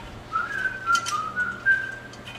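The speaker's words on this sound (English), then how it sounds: "I tend to whistle" A person whistles a casual, wandering tune while working in a garage on a Chevy SS, with short bright phrases rising and falling close to the listener, alone over a quiet background.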